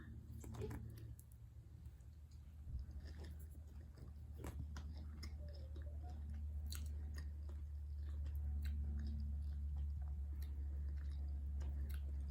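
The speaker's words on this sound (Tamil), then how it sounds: "ஒரு சின்ன பீஸ் சாப்பிட்டு பார்ப்போம்" Soft, close crunching and biting on a piece of sesame sweet (ellu thattai), irregular clicks and crunches over a steady low hum in a quiet room.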